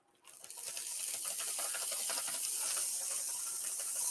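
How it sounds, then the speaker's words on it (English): Butter-flavored nonstick cooking spray hissing steadily onto a hot cast iron skillet, a continuous close aerosol spray with faint sizzle, alone. "I'm going to spray the cast iron skillet with some nonstick cooking spray, butter flavor."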